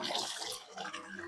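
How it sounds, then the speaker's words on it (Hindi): Clothes being washed by hand, dunked repeatedly in fresh water, giving a continuous close sloshing and splashing with no talk. "ये जो कल वाले हैं वो धो रही हूँ मैं।"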